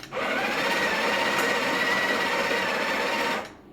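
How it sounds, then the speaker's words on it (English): A Breville Barista Express BES870's built-in grinder grinds coffee beans in one continuous loud, close whirring burst that starts abruptly and stops after about three seconds. "grind for like 2 seconds to remove the old grind size"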